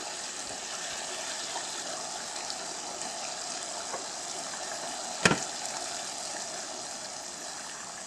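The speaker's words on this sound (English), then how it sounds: "Add your beer, beef stock, tomatoes" Beer, beef stock and tomatoes pour into a chili pot in a soft continuous gush and trickle. A sharp clunk comes near the middle, and the sound is close and moderately quiet.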